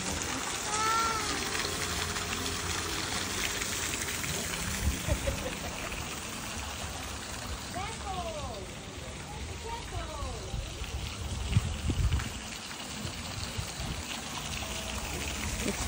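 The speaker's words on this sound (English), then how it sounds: "Got a nice natural waterfall too." Natural waterfall on Rarotonga Island: a steady, fairly faint rush of pouring water lasting throughout, with someone talking over it at times.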